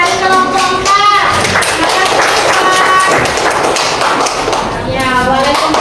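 Classroom applause for a student presenter, scattered hand claps and taps from the class over a sustained noisy stretch, with children's voices mixed in.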